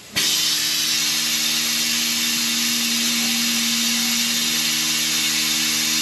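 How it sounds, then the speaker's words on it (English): A loud, constant hiss of air being drawn through a vacuum filler on a Toyota 2UZ-FE engine's coolant system, with a steady low hum underneath and no pauses. "Now putting the whole system under vacuum."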